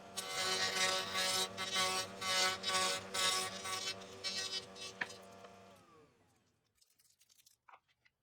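A router fitted with a 22.5-degree chamfer bit cutting the inside and outside edges of homemade wooden gear rings. It gives a loud, rough buzzing whine that pulses for about five seconds and then spins down to quiet with a few faint knocks.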